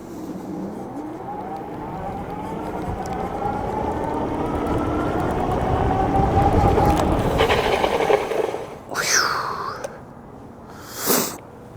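Dual motor electric cruiser skateboard rolling over bricks, a steady rough rumble building as it speeds along, then brakes bite into two short, squealing skids near the end.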